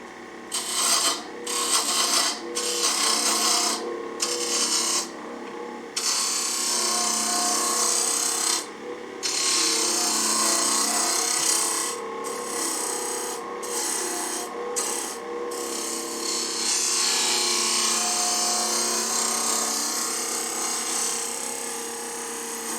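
Bowl gouge cutting a small wooden box on a lathe during a barn turning demonstration, a steady close scraping, rasping hiss that runs continuously with brief drops where the tool lifts from the spinning wood.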